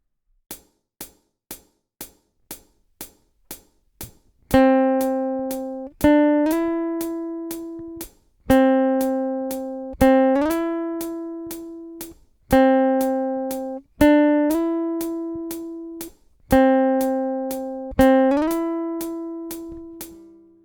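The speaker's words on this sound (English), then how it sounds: "So you pluck the string once and slide to the next note without repicking the string." Electric guitar slur exercise: a string plucked once and slid up to the next note without repicking, first a run of short plucked notes, then six ringing phrases each with a slide upward, played alone.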